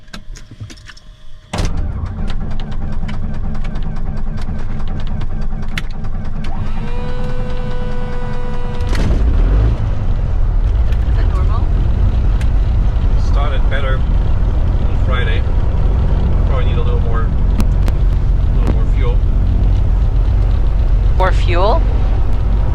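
A light aircraft's piston engine cranks and catches after priming, jumping to a loud, steady roar that runs continuously, with brief voices heard intermittently over it.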